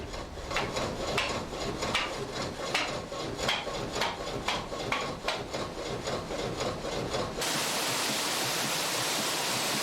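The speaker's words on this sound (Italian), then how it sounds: "La lama, mossa dall'energia dell'acqua, taglia le tradizionali tavole chiamate molvene" A water-powered sawmill blade in Trentino's Val delle Seghe cuts traditional thin wooden boards with rhythmic rasping strokes, then gives way to a steady rush of water.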